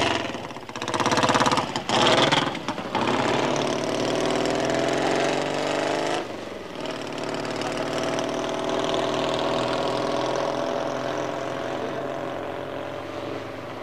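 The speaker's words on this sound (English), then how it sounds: "Andy offers John a lift up to Golders Green on his newly completed chopper." A chopper motorcycle engine in London, 1973, runs loud and close with a steady, throbbing drone, revving unevenly at first before holding a continuous idle.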